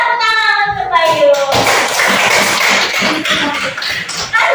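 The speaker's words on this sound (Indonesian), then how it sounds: "tepuk tangan untuk Bayu" A classroom of children bursts into clapping for their classmate Bayu after a brief burst of voices, the claps coming as a fast, loud, slightly ragged patter that continues to the end.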